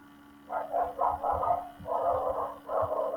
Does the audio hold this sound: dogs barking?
yes